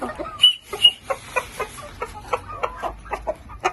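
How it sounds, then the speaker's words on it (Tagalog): Fighting chickens (gamecocks) clucking in a yard, a series of short, evenly spaced clucks and squawks at close range, fairly loud against a quiet background. "Ibang manok naman guys. Pasok ka na."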